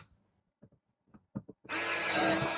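A power drill bores drainage holes into a plastic planting container, starting after a few soft handling knocks and then whining loud and close in one steady burst.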